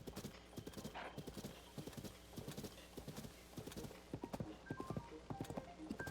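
Rapid rhythmic hoofbeats of a galloping horse in Zelda: Tears of the Kingdom, steady and close throughout, with a brief whinny and light game chimes toward the end.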